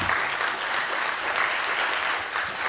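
A seated audience at a French talk show claps in a dense, even burst of applause that stays loud and steady throughout.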